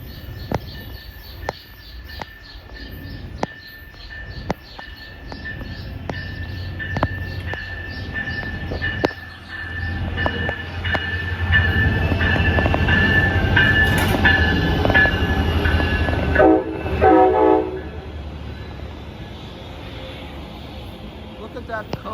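An electric Amtrak train arrives at a station, with evenly spaced rail clicks building into a loud rolling rumble and squeal of wheels as the cars pass close by, birds chirping in the background and people talking.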